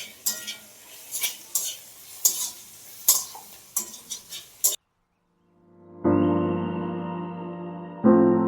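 Food fries in a pan while a utensil stirs and scrapes in bursts, preparing deep-fried items for a puja offering; after a short silence, a loud steady sizzle of something dropped into hot oil follows.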